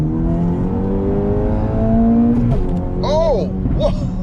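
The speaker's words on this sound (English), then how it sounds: "And if I floor it." Tuned car accelerating hard at full throttle, engine note climbing steadily and loud, followed by excited voices reacting.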